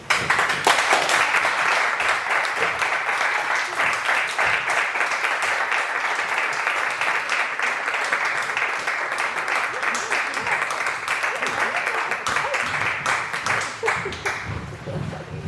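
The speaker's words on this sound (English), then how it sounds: "we can give them one last round of applause" Sustained applause from an audience at a young musicians' competition final, steady and dense clapping that carries on for the whole stretch with a slight fade near the end.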